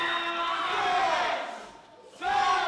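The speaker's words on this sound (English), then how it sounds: "And the crowd chanting for a count out." Wrestling crowd at an independent wrestling event chanting for a count out, loud rhythmic massed voices that swell, fade briefly, then surge back.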